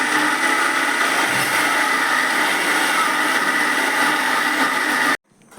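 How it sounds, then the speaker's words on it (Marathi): A mixer grinder grinds medu vada batter, whirring loudly and steadily for several seconds, then cuts off abruptly, leaving near silence. "आता आपण मिक्सर लावून"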